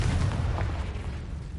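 Confringo explosion spell cast in Hogwarts Legacy, heard as a loud, low booming blast with a rumbling tail that stays full through the moment, with no voices.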